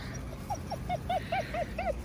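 Six-week-old puppies let out a quick run of about eight high, squeaky whimpers and yips, evenly spaced and fairly faint over a quiet indoor background.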